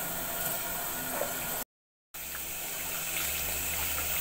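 Shower water runs steadily while a pet cat is bathed, a constant close hiss of spray that cuts out briefly and resumes.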